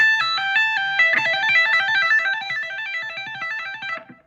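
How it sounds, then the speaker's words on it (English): Fast distorted electric guitar notes repeat a quick six-note pentatonic pattern along one string, bright and driving, then cut off abruptly. "The 4th pentatonic shred lick is a single string"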